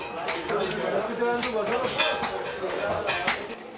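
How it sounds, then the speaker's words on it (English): Metal hammers pound brass into cauldrons, ashtrays and lanterns in a brassworkers' souk, making a dense, continuous clatter of overlapping clinks and taps amid a busy crowd, with voices mixed in. "where, with a constant pounding of hammers, they make cauldrons, ashtrays, and lanterns"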